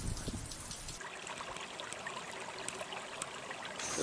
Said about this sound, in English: everything is wet as the meltwater makes its way down to the ocean